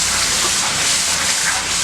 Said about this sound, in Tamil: இப்போ இதுக்கு தேவையான தண்ணி ஊற்றிக்கலாம்.